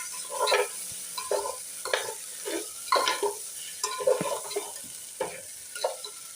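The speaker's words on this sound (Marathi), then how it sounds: "आता हे चांगले असे भाजून घेते" Rice stir-roasted in a tempering of asafoetida and turmeric, with repeated scraping and stirring strokes of a spoon against the pan about once per second over a soft background sizzle, close up and without talk.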